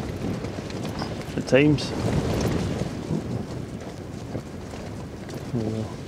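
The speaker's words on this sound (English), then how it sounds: "the wind has picked up over the night. It's not too bad just now, but it's certainly rattling the tent about" Overnight wind gusts shake a camping tent, producing a steady, close rustling and flapping of fabric with low rumbling buffets. A person speaks briefly over the noise.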